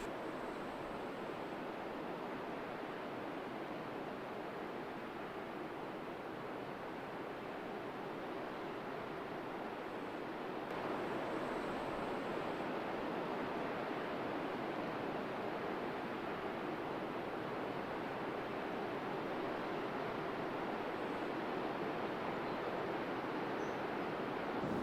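Ocean waves on a beach at Cape Blanco on the Oregon coast, a continuous broadband wash of surf heard from some distance, steady and hissing, growing slightly louder partway through with no voices.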